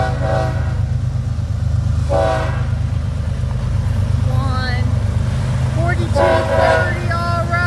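BNSF locomotive #4230 leads a southbound train through La Plata, Missouri, rumbling loudly up close while its horn sounds in several blasts, with people talking over the passing train.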